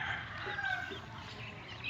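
A chicken or rooster at a poultry yard clucks faintly in the background over a steady hum of outdoor ambience.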